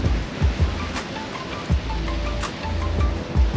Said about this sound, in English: These are the waves